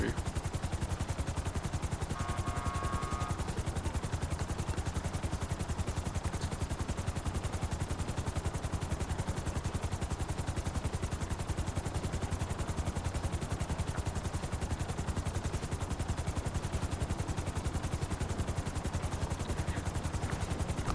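Police helicopters in the video game Grand Theft Auto Online, a dense, loud, unbroken wash of rotor thrum mixed with rapid gunfire that fills the whole span.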